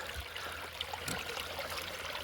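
A small creek at a winter campsite flows in a steady, faint, close-up trickle and gurgle of water, unbroken and without voices.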